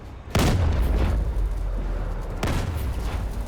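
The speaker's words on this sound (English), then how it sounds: "There is a phosphorus cannon." In the Arma 3 video game, an Onager Dunecrawler's twin-barrel phosphorus cannon fires two heavy, booming blasts about two seconds apart, each with a sharp crack and a long rumbling tail.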